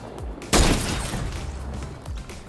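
Gunshots in the Fortnite video game: a sharp loud crack followed by a decaying rumble, with fainter shots before and after amid background game noise.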